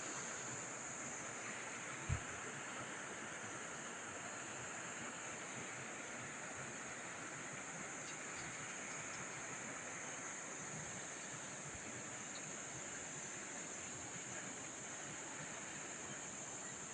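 Steady broadband rushing of river water flows continuously near a fishing spot, even and unbroken, with a brief soft knock early on and no talk.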